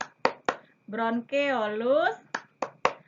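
Sharp hand claps keep a steady beat for a classroom chant naming the human breathing organs. A group of single claps comes before and after a stretch of sung, chanted speech.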